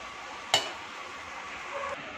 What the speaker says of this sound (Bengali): তো আমি এরম করে উল্টে পাল্টে ভেজে নিই